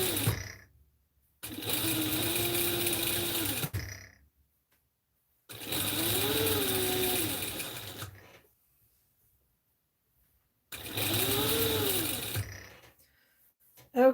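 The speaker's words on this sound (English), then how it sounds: "I am nearing the end of this round of stitching" A home sewing machine stitches a seam for a Butterick 4790 pattern in three long motorized bursts of steady whirring, each a couple of seconds long, separated by quiet pauses, loud and close.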